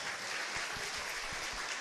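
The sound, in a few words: congregation applause in church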